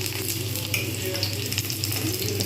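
Bhetki fish paturi parcels sizzle steadily in a hot pan, a loud continuous frying hiss with small crackles.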